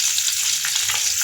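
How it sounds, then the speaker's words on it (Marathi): Cumin seeds fry in hot oil in a kitchen pan, giving a bright, continuous sizzle and crackle that stays steady and close, with no talking over it. "तेल टाकलं. आता यात आपल्याला टाकायचं आहे जिरं,"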